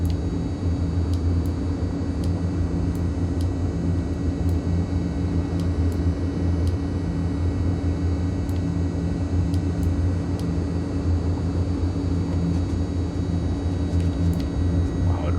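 A simulated aircraft engine in Microsoft Flight Simulator 2020 drones steadily while taxiing. The loud, continuous rumble and whine holds an even level throughout, with no voices.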